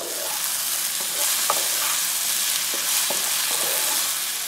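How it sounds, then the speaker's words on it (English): Gobi manchurian being stirred in a frying pan: a steady, close hiss of frying with scattered scrapes and taps of a utensil against the pan, no voices. "Now I'm going to give it a real good stir."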